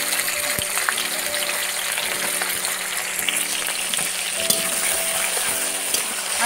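Sliced onions fry in hot oil with three bay leaves for a New Year chicken dish, a dense continuous sizzle close to the pan with scattered pops and light stirring scrapes, no talking.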